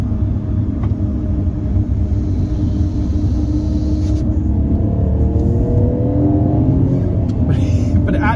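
Fiat Panda engine straining uphill in second gear with the throttle fully open, a steady loud low drone and rumble with rising harmonic whine building toward the end.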